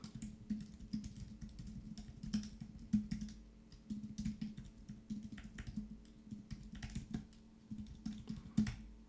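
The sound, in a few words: typing on a computer keyboard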